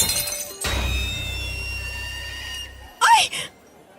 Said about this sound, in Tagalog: biglang pumutok ang bote at nabasag